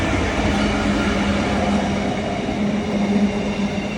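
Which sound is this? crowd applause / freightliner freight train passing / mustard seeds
freightliner freight train passing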